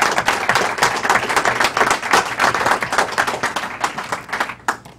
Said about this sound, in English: please give a round of applause to my former colleague, Karen Kornblue.